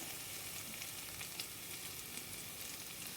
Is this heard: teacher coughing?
no